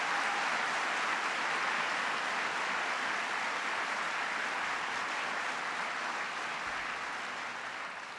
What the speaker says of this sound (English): Please give John Kerry a round of applause.